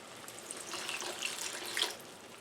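A cup of water poured into a cooking mixture in a kitchen, a soft, brief running splash that is faint and close, with no talking.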